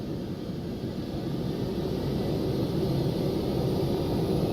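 Twin jet engines of a Phenom 300 spooled up to takeoff power in X-Plane 11, a steady, loud, broadband roar and rumble that builds slightly and holds without a break.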